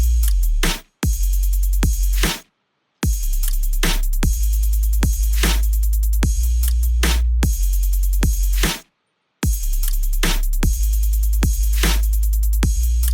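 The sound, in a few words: soloed drums and sub bass of a future bass track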